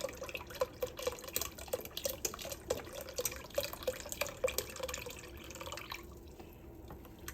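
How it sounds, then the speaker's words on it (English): A container of beef broth is poured into a soup pot, giving a close run of gurgling, splashing liquid with rhythmic glugs that fade out near the end, and no talking. "I'm gonna add just this container of beef broth to it."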